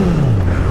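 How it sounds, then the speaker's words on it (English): A 2011 Honda CBR1000RR Fireblade with a Yoshimura exhaust revs briefly and loudly up close, its engine note sliding downward as the revs fall in a short burst. "This sounds amazing with that Yoshi exhaust."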